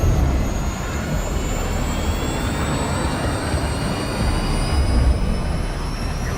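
Missile in flight in the Call of Duty Modern Warfare 2 reboot, a loud, constant jet-like roar with a rising whine held steady throughout; no talking.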